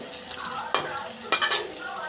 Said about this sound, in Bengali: এবার কড়াইতে সামান্য তেল দিয়ে কেটে রাখা পেঁয়াজগুলো ভেজে নেব